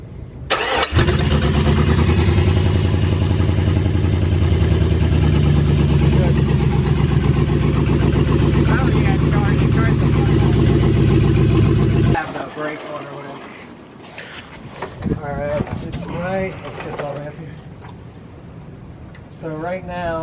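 An LS-swapped Ford F100 truck engine cranks and catches almost at once, then runs loud and steady for about twelve seconds before cutting off, leaving quiet voices talking afterward.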